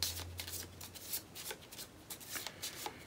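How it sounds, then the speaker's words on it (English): Encounter deck of The Lord of the Rings card game being shuffled by hand, a close run of quick riffling card bursts with brief pauses between them, no talking. "Encounter deck shuffled up."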